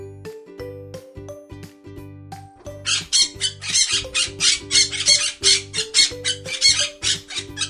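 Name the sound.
parrot squawking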